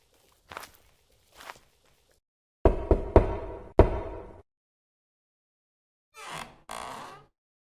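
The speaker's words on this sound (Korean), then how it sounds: "먼 길을 가다가 해가 기울어 하룻밤 신세를 지려고 강부자 집의 대문을 두드렸습니다" Knuckles rap on the main gate of a house: a tight cluster of four or five hard knocks in the middle, set apart from a few softer thuds before and after, with no one talking.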